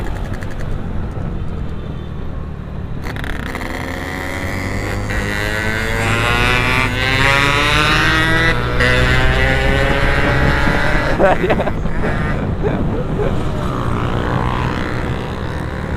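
Yamaha Mio scooter with a tuned CVT on a test ride, its engine note rising and sweeping upward steadily as it accelerates, loud and continuous with wind rush throughout and no talk.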